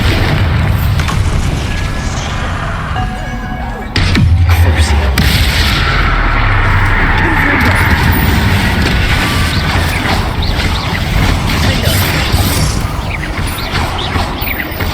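Bombarda spell blasts in Hogwarts Legacy, a deep booming explosion near the four-second mark over a continuous rumbling, busy game soundscape of low roar and scattered high chirps.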